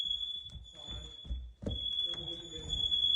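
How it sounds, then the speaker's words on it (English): High, piercing fire alarm tone sounds almost continuously, with short breaks, while people talk loudly over it nearby. "fire alarm."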